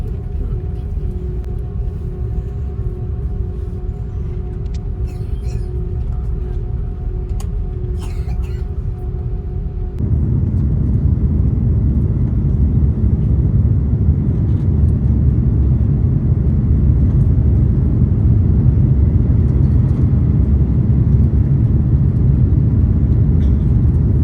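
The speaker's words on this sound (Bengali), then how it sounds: "আমাদের প্লেন মাত্রই ছেড়ে দিচ্ছে" Passenger plane leaving Bangkok for Dhaka, heard from a window seat inside the cabin: a steady low rumble with a faint engine whine that swells into a louder, denser roar as the takeoff run builds, continuous throughout.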